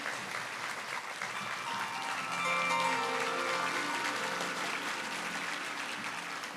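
A live audience at a Shivamogga music event applauds as a singer is welcomed to the stage. Broad, sustained clapping swells slightly midway, with faint tonal sound underneath.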